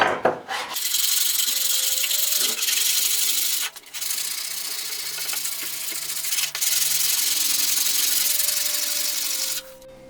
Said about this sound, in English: it's just a stick that I stapled some sandpaper onto.